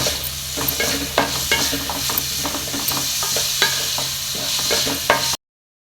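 Onions fry in a pan for Goan fish patties, a steady close sizzle with repeated scraping and tapping of a spoon as they are stirred, ending abruptly in silence.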